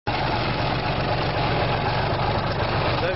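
An old Case machine's Volvo engine just after starting, idling with a steady low rumbling chug, loud and close, running evenly throughout with no talk.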